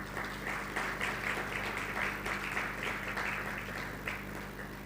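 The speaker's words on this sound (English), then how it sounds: "applause for him" Steady applause fills an awards event hall in honour of the Managing Director of TotalEnergies Nigeria, a broad even wash of clapping that holds at a constant level throughout with no voices on top.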